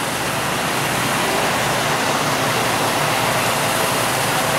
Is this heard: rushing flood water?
yes